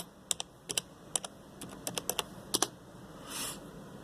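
A password is typed on a computer keyboard: about a dozen crisp, close key clicks in uneven bursts, ending with a short soft swish, with no talking.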